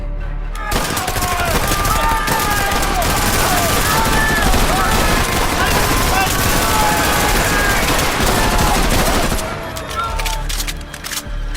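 Sustained .50 caliber machine gun fire rattles continuously for about nine seconds, loud and dense, with faint voices shouting beneath the bursts.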